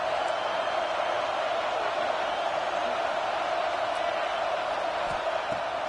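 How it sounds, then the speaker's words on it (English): Steady wall of football stadium crowd noise at a college game, a dense continuous roar with no breaks across the whole stretch, loud and even throughout. "This crowd bringing the energy and noise early."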